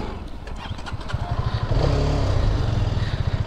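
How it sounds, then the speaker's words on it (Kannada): A Hero XMR 210 motorcycle ridden on the road, its engine a steady low throbbing drone that swells louder and rougher partway through as the rider opens the throttle, close up and continuous with no talk. "ನಾವೀಗ XMR ಬೈಕ್ ಮೇಲೆ ಇದ್ದೀವಿ, ನಾಟ್ ZMR."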